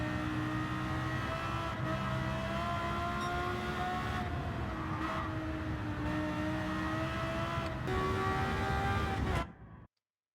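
Porsche Carrera GT engine in a racing game, a high, tonal V10 wail sustained at speed with rising and falling pitch as it shifts through gears and revs, loud and close throughout before cutting off abruptly at the end.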